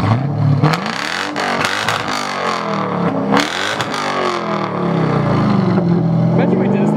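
A car engine with a broken exhaust revs loudly and roughly, rising and falling in several bursts with a rattly, raspy exhaust tone that runs steadily toward the end.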